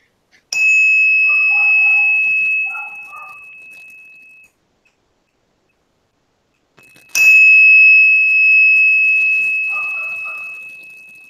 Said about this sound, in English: let me do this couple of chimes here.